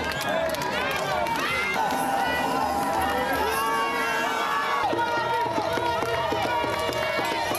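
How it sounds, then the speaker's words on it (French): Large crowd at a stadium rally for Alassane Ouattara cheering and shouting continuously and loudly, with many overlapping voices and a dense hubbub throughout. "il a eu droit à un impressionnant bain de foule"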